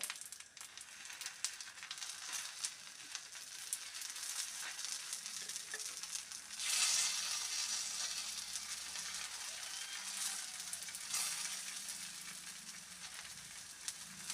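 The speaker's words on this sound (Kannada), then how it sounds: "ಈಗ ಮೇಲ್ಗಡೆಯಿಂದ ತೆಂಗಿನ ಎಣ್ಣೆಯನ್ನು ಹಾಕ್ತಾ ಇದ್ದೀನಿ" Coconut oil sizzles and crackles steadily on a masala dosa frying on a hot pan, a continuous hiss with a brief louder surge midway, and no voices over it.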